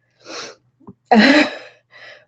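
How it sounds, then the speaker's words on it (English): A single loud sneeze with a short sharp intake before it, then a quieter breathy sound trailing off, near and isolated. "Oh my, I'm going to sneeze."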